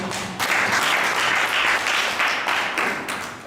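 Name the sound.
audience applause for the judges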